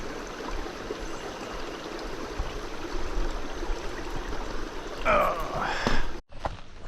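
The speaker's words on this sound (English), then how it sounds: "That's what the backside of a waterfall looks like." Steady rushing water fills the scene, a continuous broad roar with a voice briefly speaking near the end before it cuts off.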